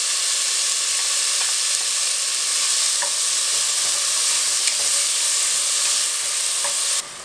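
Chopped tomato hits garlic in a hot pan and fries with a steady, dense sizzle throughout, a few faint stirring clicks mixed in, before the sound drops away abruptly at the end.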